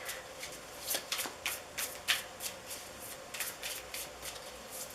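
A deck of tarot cards is shuffled for a pick-a-card reading, giving a run of quick papery riffles and soft slaps in irregular bursts, close by and fairly quiet with no voices.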